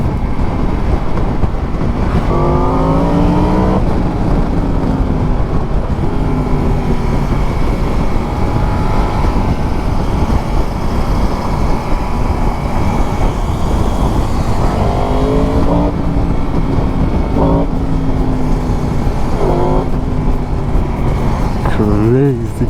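A 2022 Yamaha MT-10 motorcycle engine revs hard while riding the Grossglockner mountain road, rising and falling through repeated throttle sweeps amid heavy wind rush. A rider talks over the engine.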